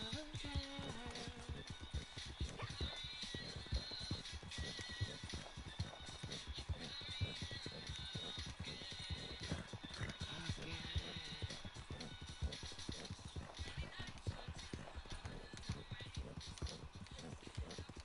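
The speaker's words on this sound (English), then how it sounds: "That's just been the jingle of my horse." In Red Dead Online a galloping horse's hooves pound in a fast, steady rhythm with a faint jingle of tack, heard quietly and continuously under other game sound.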